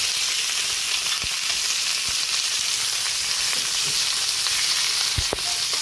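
Raw pork sizzles steadily in a pot as it goes in for a Filipino chicken-style tinola, a dense continuous frying hiss with a few sharper crackles and soft stirring knocks, close and alone without talk.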